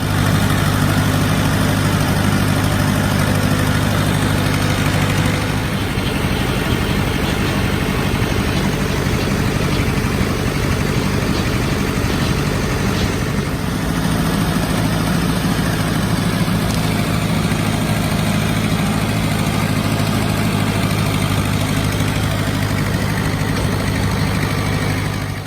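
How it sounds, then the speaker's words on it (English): A tractor engine idles steadily during bush hogging work, a loud, continuous low rumble that holds close and constant throughout with only slight shifts in tone. "As you can see, I'm on the tractor getting some bush hogging done."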